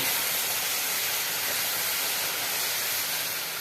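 Milk hits a hot pan for a Bengali mishti doi, giving a steady, loud broadband hiss of steam that holds evenly for several seconds with no voices.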